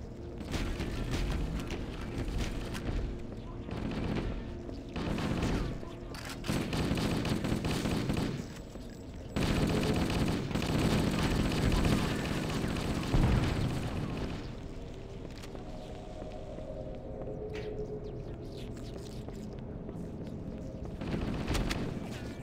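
Shotgun fire in the video game Halo: repeated heavy gun blasts and bursts of firing, loud and close, broken by brief lulls and mechanical clatter over about twenty seconds.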